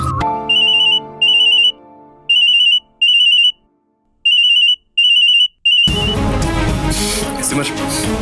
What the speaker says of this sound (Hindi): सिमर, एक इंपॉर्टेंट कॉल